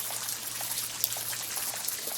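Light raindrops patter and drip steadily in an outdoor setting where a capuchin monkey plays in the rain, soft scattered taps over a faint steady hum, with no talking.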